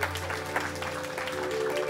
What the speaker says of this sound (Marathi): फक्त टाळी वाजवा.